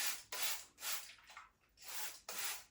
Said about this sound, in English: So I'll spray my hair with water